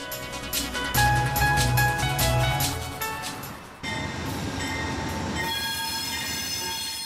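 Inside a car of an American intercity passenger train near the observation car: wheels squeal and the ride rumbles steadily at moderate volume, with a sudden shift in the noise partway through.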